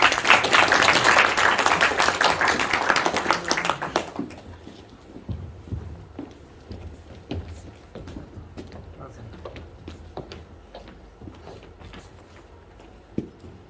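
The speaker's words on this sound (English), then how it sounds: "So big round of applause to Rubel to come on stage, please." An audience at a cricket association launch event applauds the chair as he walks on stage, loud clapping for about four seconds, then fading into scattered claps and room noise.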